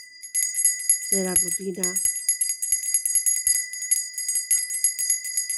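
A small bell with a steady, shimmering high ring sustains throughout, with repeated light strikes, while someone speaks softly over it in a calm, relaxing setting.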